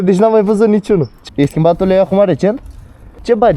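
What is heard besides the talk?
No distinct noise like a dog, phone or traffic.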